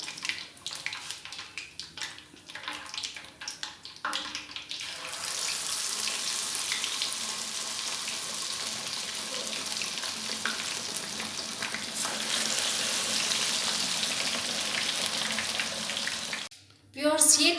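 Fish pieces sizzling in hot oil for a Lahori fish fry, a bright continuous crackle that swells after a few seconds of clatter and ends abruptly.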